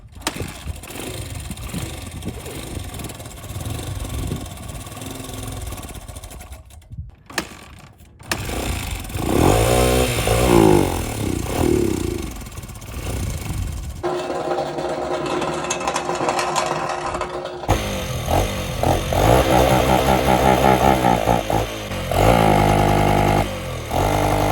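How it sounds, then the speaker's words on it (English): A stock gas engine with a single muffler revs hard, sputtering and popping, then idling, cutting out and starting up again in loud, rough bursts, close to the microphone with no talk. "It's like a leaf blower, but with explosions."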